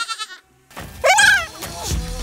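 Goats bleat on a beach, with a short wavering call early on, then a louder, drawn-out bleat in the middle and another toward the end. The calls are close and moderately loud.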